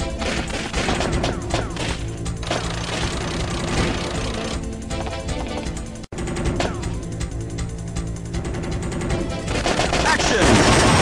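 Loud, continuous gunfire from the PS1 arcade shooter Time Crisis, with machine-gun bursts and single shots layered over game music that breaks off briefly midway and then resumes.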